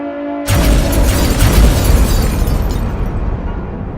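A sudden loud explosion evoking wartime bombardment bursts in after a quiet start, then rumbles and slowly fades into a long, low, rolling decay.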